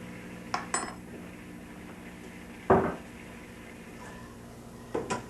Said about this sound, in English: I'm going to add 1 teaspoon of capers to this dish.